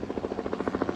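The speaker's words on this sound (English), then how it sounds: "there's a helicopter" A helicopter passes close overhead, its rotor throbbing in a steady, rapid pulsing beat that stays loud and even through the whole second, with nothing else heard.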